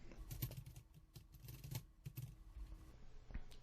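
Typing on a computer keyboard while entering data into an Excel spreadsheet, a string of soft, close key clicks in short irregular runs, quiet and alone.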